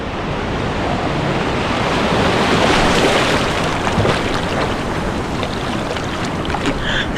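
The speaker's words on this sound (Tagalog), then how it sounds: "Lakas ng alon." Strong ocean waves crash and roll continuously on a partly rocky Boracay shore, a loud steady wash of surf with wind buffeting the microphone.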